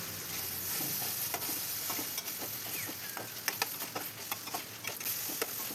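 Soaked cowpea pods (chawli shenga) fry in a pan with a steady crackling sizzle, while a spoon scrapes and clicks through them in irregular stirring strokes, close and moderately loud with no talking.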